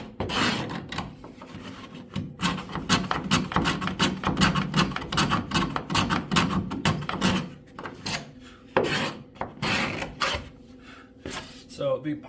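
A steel card scraper fairs the inside of a cedar strip guideboat, making rapid repeated rasping strokes in uneven bursts, close and fairly loud, with a brief pause midway.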